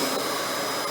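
A Hoover Windtunnel canister vacuum cleaner runs close by with a loud, steady airy roar and whine, no voices.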